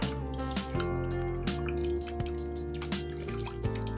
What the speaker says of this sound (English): We're just going to put a couple drops in.